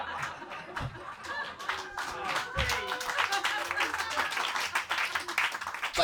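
A stand-up comedy audience claps enthusiastically, mixed with chuckles and laughter, and a voice talks over the noise as it continues throughout.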